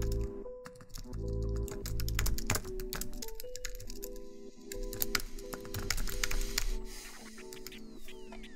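Computer keyboard typing new text, a dense, continuous run of close, crisp key clicks with no voices.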